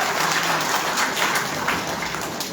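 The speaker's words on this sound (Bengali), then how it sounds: "আমরা জোরে করতালি দিয়ে তাকে অভিবাদন জানাই" An auditorium crowd at a Destiny-2000 Limited program claps loudly and steadily, a dense wash of applause held for a couple of seconds with no voices heard over it.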